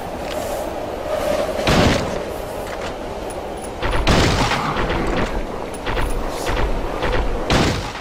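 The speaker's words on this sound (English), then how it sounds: "the shotgun actually has pretty good stopping power" Shotgun blasts in the Silent Hill 3 video game, set in a subway station corridor: several loud, booming shots spaced a couple of seconds apart over a dark ambient game background.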